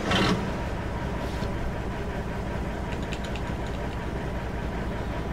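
A Mercedes-Benz Axor truck in Euro Truck Simulator 2 starts up with a brief loud burst, then settles into a steady, low diesel idle rumble that continues evenly to the end.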